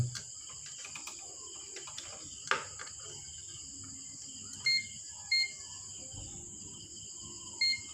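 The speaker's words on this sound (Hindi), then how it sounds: "अभी ये आपको बीप सुनाई दे रही होगी।" An INVT VFD drive gives several short electronic beeps, spaced a second or so apart, fairly faint over a steady high-pitched hum and background noise.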